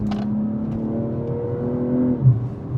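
A 2025 BMW M240i xDrive engine with synthesized exhaust burbles, heard from inside as a low humming drone with a slight rise in pitch and a brief throaty pop toward the end.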